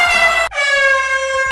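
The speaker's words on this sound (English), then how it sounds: "And adding in air horns for comedic effect." Two loud, blaring air horn blasts added as a comedic sound effect, the first short and cut off, the second longer and sustained, with no talking.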